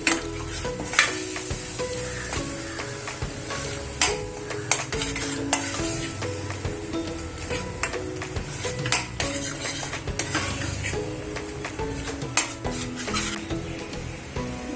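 Masala for white peas usal is stir-fried in a pan, with a steady sizzle under frequent scraping and clinking of a spoon against the metal pan, close and busy throughout.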